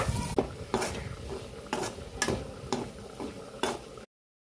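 Chicken and egg fry together in a pan, a low sizzle under about eight regular scraping stirs of a utensil against the pan, close and clear with no talk.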